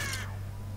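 A brief bird caw from the video game Tomb Raider, a single harsh call fading within a quarter second, followed by a steady low hum.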